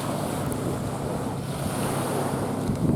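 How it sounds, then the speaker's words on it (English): Waves roll onto the shore of a freshwater fishing spot beside a campfire, a continuous close wash of surf mixed with wind rumble, steady and fairly loud with no voices. "We've got the waves rolling in."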